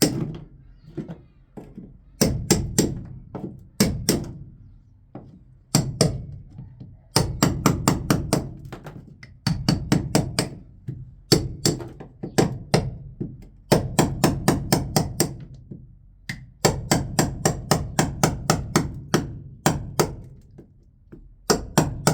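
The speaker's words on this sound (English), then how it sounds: "so I'm just using a chisel." Steel chisel striking and scraping sound-deadening material off the floor pan of a BMW E30 325i during restoration, in repeated close, loud bursts of sharp knocks and scrapes with short pauses between them.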